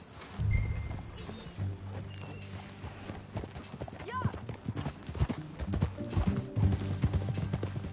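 A horse's hooves clip-clop steadily while being ridden in the Red Dead Redemption 2 video game, a rhythmic trotting beat with game sounds and a whinny mixed in.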